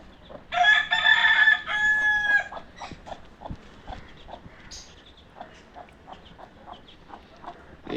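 Backyard chickens and a hen at a home in Selaiyur, Chennai, start with a loud drawn-out crow, then give a string of short, soft clucks scattered across the rest of the moment.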